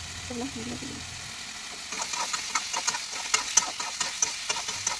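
Ground spices with ginger, chili and cumin paste being stir-fried for a mushroom curry: a spatula scrapes and clacks in a rapid, uneven rhythm over a soft sizzle, close by, after a brief voice at the start.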